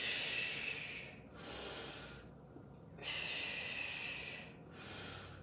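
Heavy, forceful exhales through the nose and mouth during an intense Pilates workout, four long hissing breaths in a steady rhythm with short quiet gaps, close and fairly loud with no talking.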